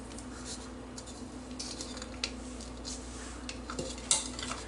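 Butter and sugar being beaten together in a bowl for a rusk cake, with soft, steady scraping and clinking of utensil against the bowl, a few sharper taps near the end, fairly quiet with no talking.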